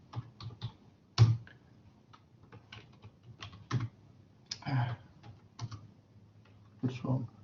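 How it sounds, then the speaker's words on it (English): Someone types at a computer keyboard while running STATA commands, tapping out irregular bursts of clicks and heavier key strikes, close up, with a voice mixed in. "Oh, I'm typing the wrong word, sorry."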